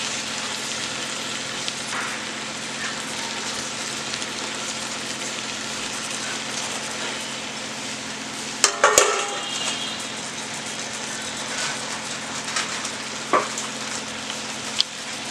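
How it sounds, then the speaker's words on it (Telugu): Chicken pieces coated in biryani masala are stirred in a pan with a steady background sizzle, and a short burst of scraping and clatter comes midway. Occasional light knocks follow, and nobody speaks. "ఈ ముక్కల్ని మొత్తం పైకి కిందకి కలుపుకుందాం అండి."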